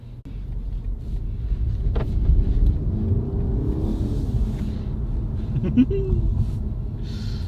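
A 2019 BMW 320i G20 pulls away and accelerates, a low engine rumble building steadily from inside the cabin, with road and wind noise and voices talking over it.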